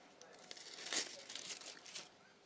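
Soft crinkling of foil being pressed onto glue while crafting a DIY chandelier, faint close rustles peaking in a few brief crunchy bursts.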